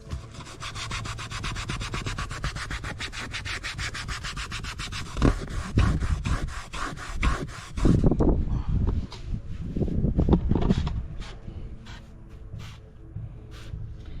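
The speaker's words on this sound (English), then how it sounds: "Let me scrub this right here just a little bit." Vinyl boat seat being scrubbed to remove mold and mildew: steady, close brushing strokes in a fast repeated rhythm, then slower, heavier scrubbing passes that break up and pause near the end, with no voices.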